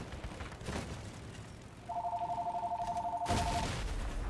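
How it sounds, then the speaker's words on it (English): A home phone rings with a steady electronic warble, continuous for about two seconds, behind a game's background booms and gunfire-like bursts. "home phone call thing going on"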